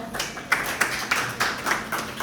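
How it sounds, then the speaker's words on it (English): Seminar audience clapping for themselves in a room, a short burst of moderately loud applause with a few sharp, rhythmic individual claps standing out. "a round of applause for yourselves"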